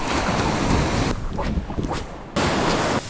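Surf and ocean waves breaking on an Australian beach, a steady loud wash with gusty wind noise on the microphone and a fresh surge of breaking water near the end.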